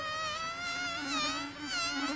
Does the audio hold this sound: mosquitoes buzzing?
yes